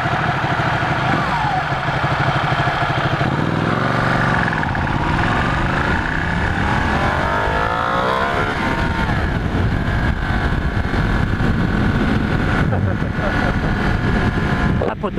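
Ducati 1199 Panigale S superbike engine on a test ride, revving hard in race mode with rising and falling pitch sweeps, loud and close throughout, with wind noise and a voice talking over it.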